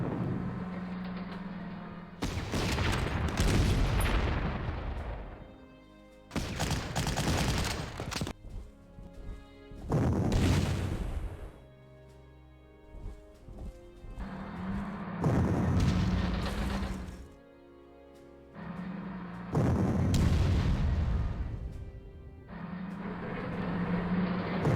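Repeated heavy artillery blasts from the Panzer Corps wargame during an urban multiplayer battle, loud booming shots arriving in separate bursts with short gaps between them and no talking.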